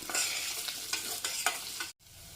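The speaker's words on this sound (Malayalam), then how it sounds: "വെളിച്ചെണ്ണയിലൊന്ന് സോട്ട് ചെയ്ത് കഴിയുമ്പോൾ അതിൻ്റെ ആ ടെക്സ്ചറൊക്കെ നല്ല ഇതായിട്ട് കിട്ടും നമുക്ക്" Food is sautéed in coconut oil in a pan, a soft, steady sizzle punctuated by several scraping stirs of a spoon, fairly quiet and close, with a brief cut to near silence near the end.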